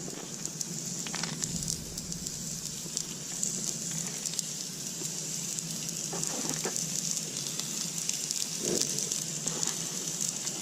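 Fish searing in a hot pan on a grill at about 400 degrees, a continuous crackling sizzle with a steady hiss and a few louder pops, close and without talk.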